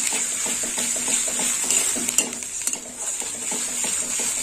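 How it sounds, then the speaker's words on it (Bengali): A masala with garlic and ginger paste is stirred and fried in a pan for a ridged gourd and potato dish, with rhythmic spatula scrapes over a steady sizzle, close and continuous, plus a couple of sharp utensil clinks midway. "আর একটু মশলাটা কষে নেবো"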